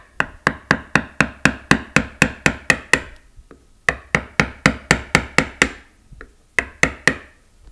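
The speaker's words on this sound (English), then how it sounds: "Just some tapping, don't panic." Sharp wooden taps strike a wooden printing block to knock off its edge, delivered in fast, evenly spaced runs of about ten blows each with short pauses between, close and loud with no talking.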